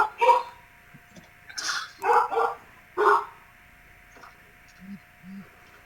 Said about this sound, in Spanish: Apaguen su micrófono desde el que tiene su perro ladrando